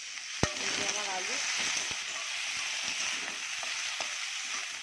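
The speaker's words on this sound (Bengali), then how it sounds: "দেখো, আমার আলু কিন্তু ভাজা হয়ে গেছে।" Potato pieces frying in oil in a home kitchen pan, a steady soft sizzle with a few sharp clinks of a utensil stirring, close and alone without talk.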